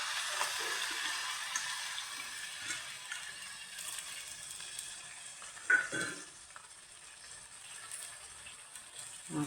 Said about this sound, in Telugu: ఆయిల్ మరిగిపోయింది కదా, పచ్చిమిరపకాయలు, వెల్లుల్లిపాయలు, ఉల్లిపాయలు వేసేసుకుందాం.